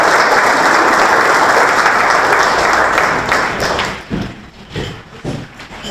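Sustained audience applause at a school National Junior Honor Society induction ceremony, dense steady clapping that fades out toward the end into a few scattered claps and thumps.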